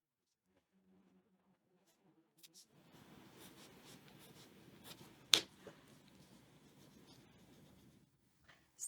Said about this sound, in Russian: Стираю лишние линии, которые не просвечиваются.